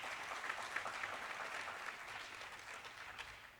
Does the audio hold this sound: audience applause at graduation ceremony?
yes